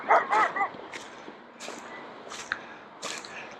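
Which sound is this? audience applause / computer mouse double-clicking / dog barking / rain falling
dog barking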